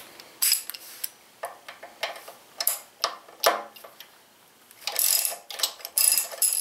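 A hand ratchet clicks in quick bursts while undoing the lower fork pinch bolt on a 2016 Indian Scout Sixty motorcycle, sharp close ticking runs separated by brief pauses, with no voices.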